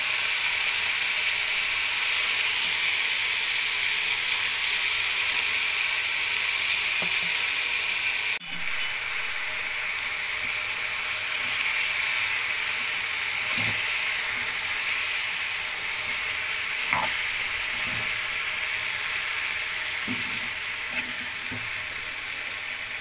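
Cabbage and capsicum frying with spices in a pan, a steady bright sizzle close by, with a sharp clack partway through and a few soft scrapes of stirring later on, no talking.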